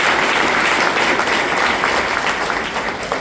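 Dense, steady audience applause at a workplace talk, loud and sustained throughout with no speech over it.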